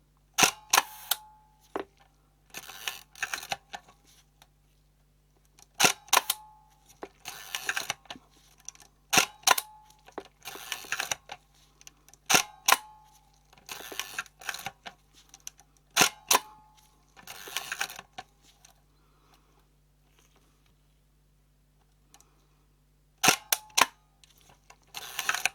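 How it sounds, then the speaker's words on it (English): A Prontor CF leaf shutter in a Hasselblad Planar CF 100mm f/3.5 T* lens fires again and again, crisp mechanical clicks and short whirring runs arriving in bursts separated by quiet gaps, close and clear. "the shutter is not dead"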